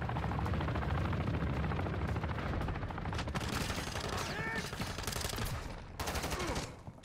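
Continuous, loud automatic gunfire and scattered shots crackle in a Call of Duty: Modern Warfare 2 team deathmatch, layered over rumbling background battle noise with little pause.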